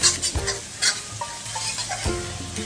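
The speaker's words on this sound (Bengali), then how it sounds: "এবার আমি এগুলো সব একসাথে হালকা করে ভেজে নেব।" Coriander, cumin and spices frying together in a pan for a mutton dish, a close, steady sizzle broken by sharp clanks and scrapes of a spoon stirring against the metal.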